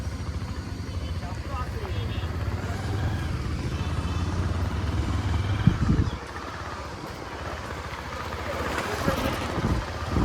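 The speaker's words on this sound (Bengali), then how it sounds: "হ্যাঁ, বাইক স্টার্ট হয়ে গেছে।" A motorcycle on a ride through Gobardanga town runs with a steady low engine drone and wind buffeting the microphone, and a passenger talks over the noise.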